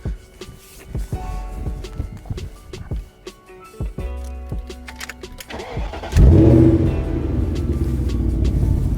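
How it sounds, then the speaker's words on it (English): A Dakar Yellow BMW 8 Series with its rear exhaust box deleted but otherwise original exhaust. After some clicks and handling sounds, the engine starts at about six seconds with a loud bark, then settles into a deep, steady idle rumble close by. "It has all original exhaust apart from back box, and for me, to be honest, I mean, it's a bit too loud."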